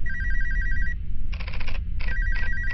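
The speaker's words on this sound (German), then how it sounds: "Es ist nur ein Telefonanruf." A telephone rings in a horror video game at night, an electronic trilling ring that pauses and resumes over a low droning background hum.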